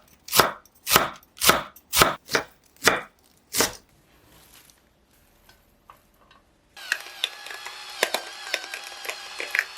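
Knife finely shredding stacked cabbage leaves on a cutting board, about eight crisp, evenly spaced chops up close, then a pause and a busier stretch of quieter clattering kitchen sounds.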